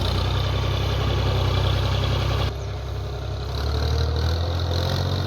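A Massey Ferguson MF 240 tractor, carrying a load on a muddy, rain-soaked track, runs with a steady low diesel rumble close by, the engine note dipping briefly midway before settling back.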